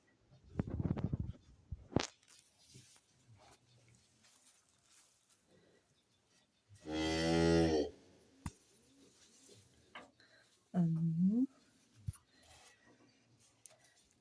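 A cow in a barn, kept near a young bull calf's pen, gives a loud, drawn-out moo near the middle and a shorter, closer low call later, with quiet knocks and shuffling in between.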